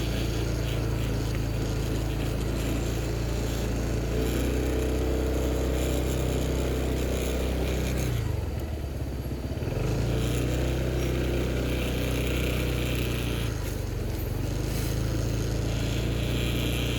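A motorcycle rides a narrow dirt road near Cihonje, Sumedang, its engine droning steadily and close throughout, with the pitch dipping briefly as the throttle eases, then rising again.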